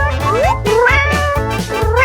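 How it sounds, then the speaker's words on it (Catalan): A kitten meows in a series of clear, loud, rising cries over a steady pulsing music bed in a toy dollhouse-building setting, with no talking. "No ens oblidem del gatet!"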